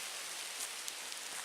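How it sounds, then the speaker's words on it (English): Rain beginning to fall outdoors on a camping trip in Michigan, a steady broadband hiss with a few faint drip ticks, soft and continuous with no voices. "I'm getting dripped on because it's starting to rain again"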